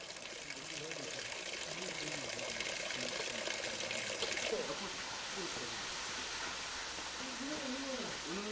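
Stream flowing through a valley on Jeju Island, fed by springs and carrying plenty of water, heard as a soft, steady rush and trickle under faint voices in the background.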